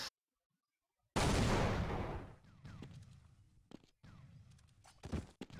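A single loud gunshot blasts out during an esports semifinal video game match and then decays, followed by faint scattered footsteps and small clicks, with no talk.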